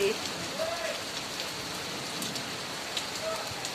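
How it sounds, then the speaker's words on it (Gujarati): Continuous rain with hail hissing steadily on surfaces in Bhavnagar, Gujarat, with a faint voice briefly audible in the background. "વરસાદ પાછો ચાલુ થઈ ગયો છે"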